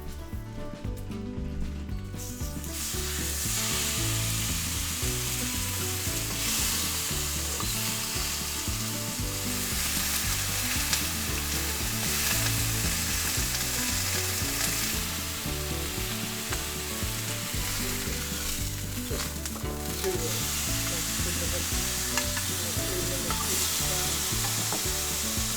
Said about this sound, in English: So you can hear it sizzling there